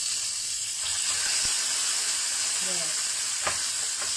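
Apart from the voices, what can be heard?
salmon searing and sizzling in a pan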